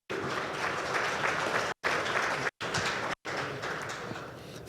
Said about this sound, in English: So if we can please give another round of applause to our panelists today.